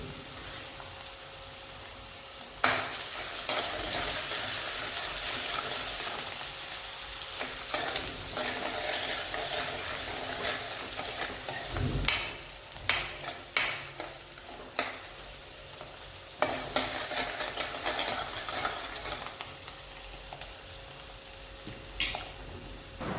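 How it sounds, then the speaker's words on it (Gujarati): A spoon stirring turmeric and salt through a spiny gourd (kantola) and cashew curry in a pan, soft continuous sizzle broken by several sharp clinks and scrapes of metal against the pan, no voices. "સ્વાદ અનુસાર મીઠું નાખી સારી રીતે મિક્સ કરી દેશું"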